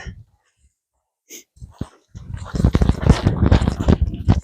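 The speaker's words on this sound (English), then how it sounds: "You are not a cattle dog there, Dave" A dog on a farm during lamb castration makes breathy, whimpering noises and short vocal bursts up close, followed by busy rustling and movement sounds.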